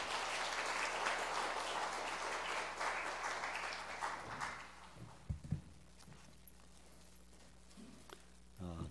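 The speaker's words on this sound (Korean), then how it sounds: "우리 축복의 박수로 우리 목사님 맞이하도록 하겠습니다" A church congregation claps to welcome the pastor at a Sunday morning service, the applause loud at first and then fading out around the halfway mark, leaving a quiet room with a few soft footsteps and thumps.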